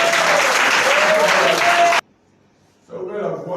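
Applause from a church congregation, a dense, loud sustained clapping that stops abruptly, then resumes more softly after a brief silence, with voices mixed in.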